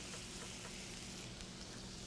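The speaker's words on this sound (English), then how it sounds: "Shake the excess flour off, and you should hear that sizzle." A flour-dusted pot roast sears in smoking hot olive oil, a faint steady crackling sizzle throughout with no voices.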